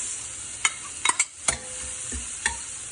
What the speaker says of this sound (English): saute them for 2 minutes